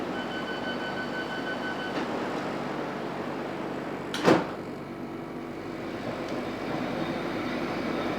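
A London Underground Metropolitan line train rumbles steadily from on board, a continuous loud hum and rattle with one sharp clunk midway and faint tonal whines overhead.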